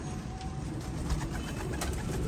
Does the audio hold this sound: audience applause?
no